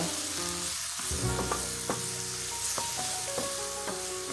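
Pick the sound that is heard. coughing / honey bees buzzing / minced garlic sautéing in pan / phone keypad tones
minced garlic sautéing in pan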